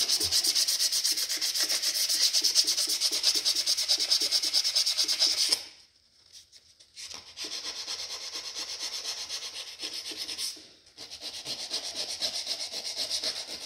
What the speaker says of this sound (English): Keep working back and forth with your sandpaper, different directions.